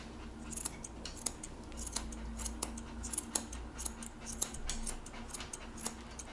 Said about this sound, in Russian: для примера покажу вот вам ножницы